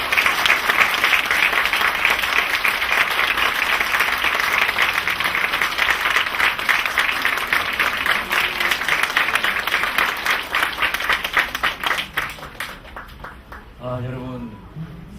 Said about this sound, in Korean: 여러분 교수님을 큰 박수로 환영해 주시기 바랍니다.